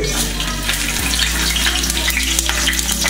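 Ghee and oil heat in a pan for country-chicken dum biryani, giving a loud, continuous close-up sizzle and crackle over a low steady hum.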